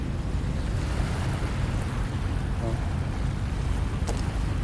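Waves washing onto Manila Bay's dolomite beach, a steady broadband surf wash with wind noise across the microphone, constant and fairly close.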